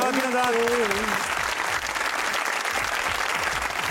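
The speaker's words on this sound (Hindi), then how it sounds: "चलते ताली होनी चाहिए जमहूरियत के लिए" Studio audience applauding at the close of a Pakistani talk-comedy episode, a steady dense wash of clapping from start to finish, with a speaking voice trailing off over the opening second.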